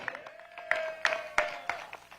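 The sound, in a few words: audience applause for the Lieutenant Governor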